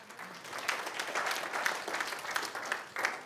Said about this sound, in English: Give a round of applause to that guy.